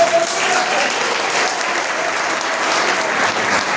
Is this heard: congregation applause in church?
yes